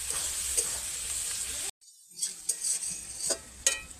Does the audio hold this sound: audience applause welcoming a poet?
no